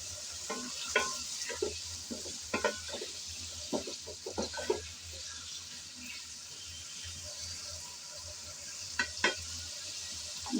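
Cauliflower frying in hot oil, a soft steady sizzle with scattered clicks and scrapes of a spatula stirring, clustered in bursts early on and again near the end, fairly faint overall.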